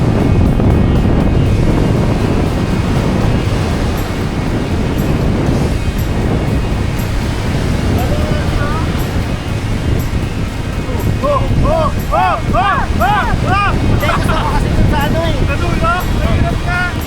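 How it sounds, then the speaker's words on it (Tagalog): Steady strong wind roar buffeting the microphone, with water and boat noise beneath and faint voices partway through, near Siquijor Island, Philippines. "Tapos ang lakas ng hangin."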